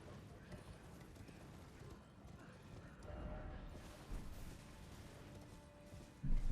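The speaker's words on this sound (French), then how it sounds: "Et on y va à cheval pour y aller beaucoup plus vite." Horse hooves clip-clop steadily in the video game Elden Ring as a mount gallops, a continuous rhythmic beat with game ambience and occasional heavier thuds, and someone talks over it.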